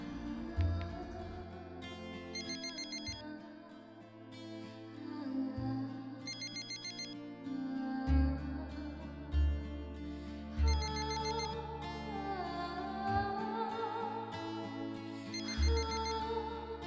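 A telephone rings repeatedly in a tense suspense drama scene, its electronic ringtone bursts recurring at steady intervals over a sustained musical underscore, with no talking.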